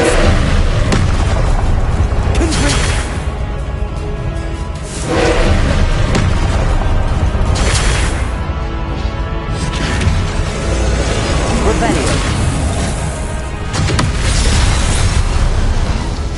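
Confringo blasting-spell explosions in Hogwarts Legacy on PlayStation 5, loud booming blasts repeating every few seconds over a dense, continuous rumble of game combat.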